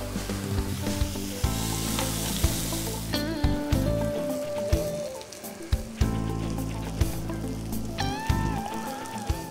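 Stew simmers in a pan, giving a steady sizzle and bubbling that runs under strong tonal music, with a few sharp clinks scattered through it.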